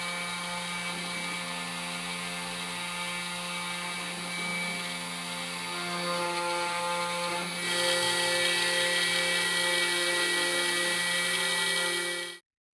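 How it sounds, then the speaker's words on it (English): An Othermill desktop milling machine cuts circuit traces for a light-up name tag, giving a steady high-pitched whine with layered tonal hum that runs continuously and grows slightly louder partway through, with no talk. "Now we're ready to cut our traces."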